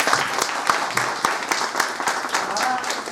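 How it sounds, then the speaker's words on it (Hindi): Audience applause for a training resource team at a district education and training institute, a dense steady patter of clapping held at moderate level, with some faint voices mixed in. "इन सभी के लिए एक बार जोरदार तालियां"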